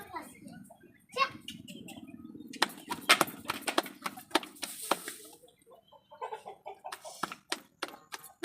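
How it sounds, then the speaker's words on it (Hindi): A buffalo is driven along, its hooves clopping in an uneven walking rhythm, with chickens clucking nearby and people talking throughout. "भैंस को चलाने का अच्छा तरीका"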